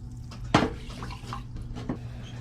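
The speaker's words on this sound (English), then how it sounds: "In a pot, we're gonna add our rice, a little bit of salt, our water." Water pours into a cooking pot already holding rice and salt, a brief splashy pour close by, then a steady quiet trickle with a small clink near the end.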